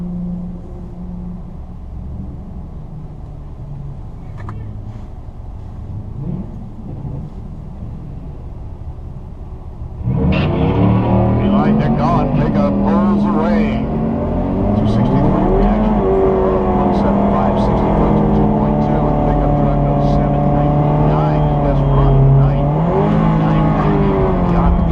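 A 2016 Cadillac ATS 2.0T launches in an eighth-mile drag race, first a low idle hum, then a sudden loud burst of revving as it accelerates hard through rising gear sweeps, with an announcer talking over the engine.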